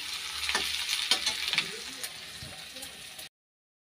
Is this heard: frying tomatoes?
yes